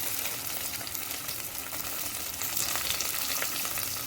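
Shallots, green chilies and curry leaves fry in hot oil in a pan for a Kerala mango fish curry. A steady, close crackling sizzle runs throughout, loud and unbroken, with no voices.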